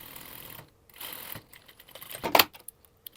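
An overlocker finishes the open seams of a t-shirt at about a quarter-inch width, heard as brief, close mechanical runs and clicks, with one sharper, louder burst near the end.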